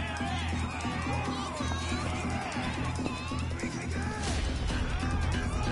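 A dense crowd in the game Yakuza: Like a Dragon fills the space with steady overlapping chatter, shuffling and scattered impacts, loud and continuous throughout.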